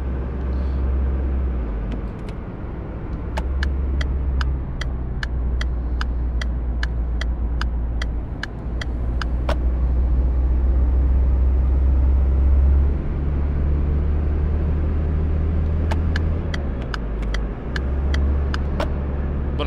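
Engine of a Volkswagen Passat driving in City Car Driving, a steady low drone that rises and falls with speed, with faint repeated clicks like a turn signal ticking.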